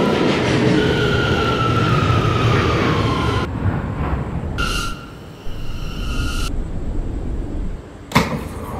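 An R179 C subway train runs, a loud continuous rumble with rail screeches and tonal whines that cut in and out as cars rattle past, ending with a sharp clunk.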